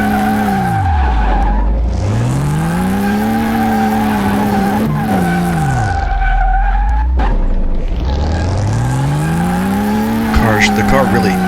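A car in Car Mechanic Simulator 2018 skids repeatedly, its tires squealing in long rising and falling sweeps over a steady engine drone, loud and close, with a brief knock near the end.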